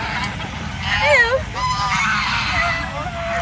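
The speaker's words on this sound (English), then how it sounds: "The geese are coming to you thinking you've got food," Canada geese honking at a boating lake in Cleethorpes, UK, several birds calling close by in overlapping nasal honks over steady outdoor wind and background bustle.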